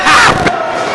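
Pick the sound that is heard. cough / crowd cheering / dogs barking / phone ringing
crowd cheering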